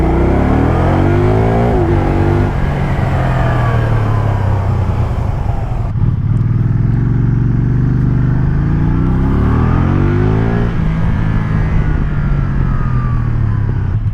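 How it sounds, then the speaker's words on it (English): A loud, close three-wheeled motorcycle engine revs up and down repeatedly, its exhaust note rising and falling in pitch with throaty rumble. "But the exhaust is breaking in nice."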